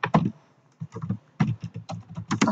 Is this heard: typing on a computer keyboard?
yes